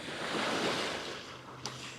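Large ocean waves and surf stirred up by Hurricane Erin pound the South Carolina coast in a continuous, loud roar mixed with wind buffeting.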